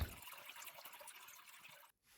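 Pickle brine poured off fermented cucumbers, a soft steady liquid trickle and splash that stops abruptly near the end, quiet and close.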